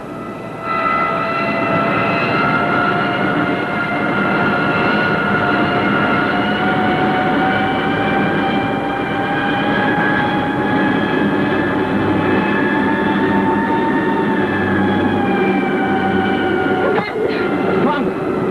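A spaceship in a 1950 Space Patrol sci-fi scene roars in a power dive: a loud, continuous engine drone with whining tones that slowly bend in pitch, and a voice speaks briefly over it.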